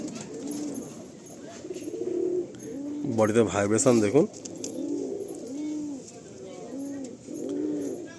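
Pigeons kept for sale coo in a repeated, soft, rolling rhythm close by, while someone speaks briefly over them in the middle.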